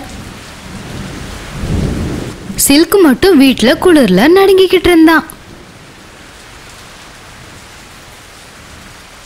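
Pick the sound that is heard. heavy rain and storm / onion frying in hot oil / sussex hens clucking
heavy rain and storm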